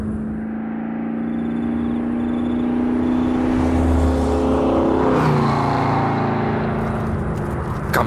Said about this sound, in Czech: Zní to jako motor vozu.